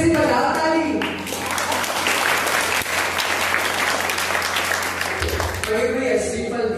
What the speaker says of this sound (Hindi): सब ताली बजाओ। गोली करके नहीं है, अच्छे से बजाओ ताली।